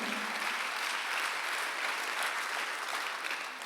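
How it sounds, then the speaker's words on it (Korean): Church congregation at a Sunday worship service claps continuously, a dense, even roar of applause filling the hall without pause or voices. "박수하면서 끊이면 안 돼요."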